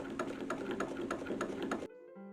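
A sewing machine stitches ruffle seams in a fast, steady run of clattering needle strokes for nearly two seconds, then stops, leaving only a faint residual hum.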